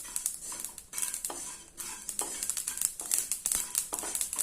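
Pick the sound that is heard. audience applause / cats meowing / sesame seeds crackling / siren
sesame seeds crackling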